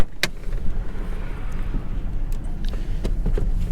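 A high-mileage Mitsubishi Galant that stalled at a stoplight idles again, its engine a steady close rumble with a few small clicks and rattles on top and no talk.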